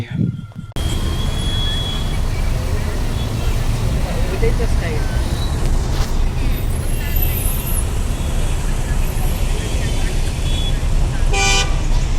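Dense roadway din from a traffic jam on the way to a temple in Tripura, with steady engine rumble and a brief burst of car horns near the end, while people talk over the noise throughout.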